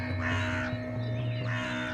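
Crows on a rooftop give harsh, repeated caws in a couple of bursts, loud and close over a steady droning background, with no one speaking.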